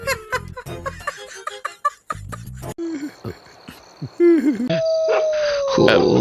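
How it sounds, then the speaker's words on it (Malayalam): A dog howls in a long, drawn-out rising tone near the end, following a stretch of mixed, busier sounds. "അവശകുനോ നായയാണ് ഓരിട്ടിരിക്കുന്നത്."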